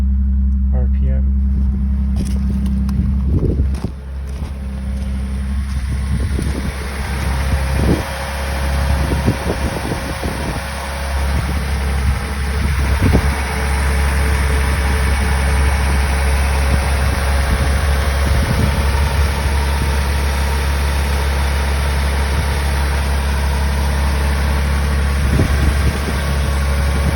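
A 1985 Toyota Celica Supra idles on a cold start at about 1300 rpm, a smooth, steady low engine hum close by with light mechanical clicks and someone speaking at times.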